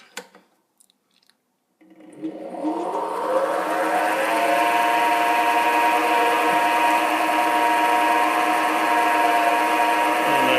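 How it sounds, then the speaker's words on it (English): A 7x16 mini lathe switches on after a couple of seconds of quiet handling, spinning up with a rising whine and then running at a steady, close, continuous hum with harmonic tones until the end. "I'll go ahead and start the lathe up."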